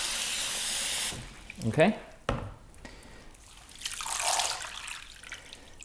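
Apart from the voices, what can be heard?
water rinsing sprouted seeds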